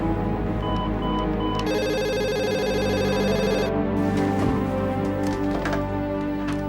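A telephone rings loudly in an office, its bell-like electronic trill repeating steadily for several seconds with no talking over it.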